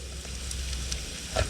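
Garlic and small tomatoes fry in a hot pan, a steady close sizzle with soft crackles and a brief louder spit near the end.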